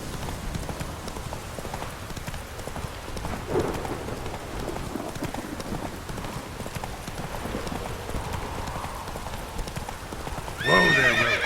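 Roach, Geralt's horse in The Witcher 3, gallops with a steady, loud clip-clop of hooves. A neigh breaks out near the end, and a light patter of rain sits underneath.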